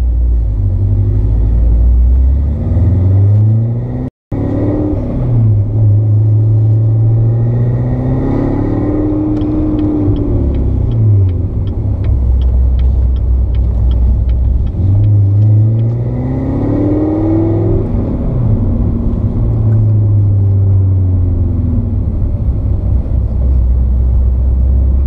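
A 2015 Corvette Z06 built to 754 rear-wheel horsepower drives steadily, its engine a loud, continuous low rumble with rising and falling rev sweeps as it pulls smoothly through the gears, with no voices over it.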